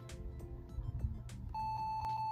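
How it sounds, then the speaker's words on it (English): A laptop beeps while powering on, a series of short electronic beeps over a low hum and clicks, then a steady high-pitched tone holds for about a second. "It starts beeping at me for a good couple seconds, then it starts booting properly."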